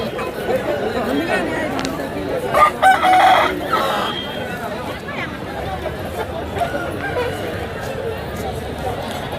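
Roosters crow and chickens cluck at a country fowl market near Anakapalli, with a brief louder burst of crowing and fluttering amid steady crowd chatter and bargaining voices throughout.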